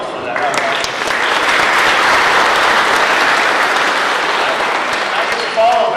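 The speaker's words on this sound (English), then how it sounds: "Another round of applause for that." Audience applause after a talk at a Petaluma city event, a dense, steady wash of clapping sustained for the full six seconds, loud and close with no break.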